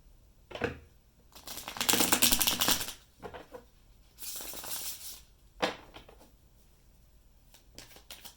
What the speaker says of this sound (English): Okay, one more shuffle, I think.